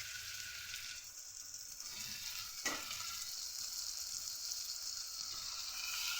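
Marinated potatoes and meat go into lightly fried onions in a little oil for pulao, a loud hissing sizzle that surges as the ingredients drop in with a sharp clatter, then stays steady and close.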